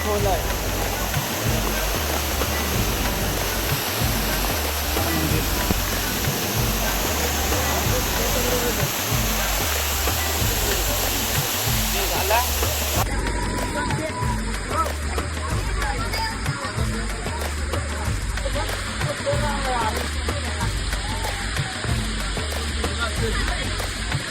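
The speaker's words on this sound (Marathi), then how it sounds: "मित्रांनो पाऊस बघू शकता" Rain falls at Raigad fort as a constant, dense hiss that runs for the whole stretch and changes character partway through. Voices are faintly present underneath.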